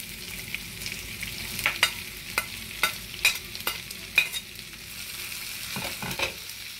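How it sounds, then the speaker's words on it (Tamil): Onions fry in oil, which hisses steadily in a pan, punctuated by a series of sharp scraping taps as they are stirred, with a louder sizzle swelling near the end. "வெங்காயத்தை இப்போ நான் தாளிக்க போடுறேன்."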